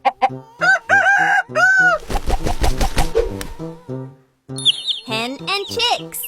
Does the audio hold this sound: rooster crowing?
yes